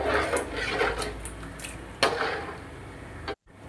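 Kohlrabi (nookal) curry being stirred in a pan, with a continuous close scraping and stirring noise, a sharper knock about two seconds in, and then a sudden cutoff near the end.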